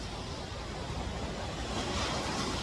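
Ocean waves wash steadily onto a beach on a rainy day, a continuous broadband surf roar with wind noise that holds at an even level and swells slightly near the end, with no voices.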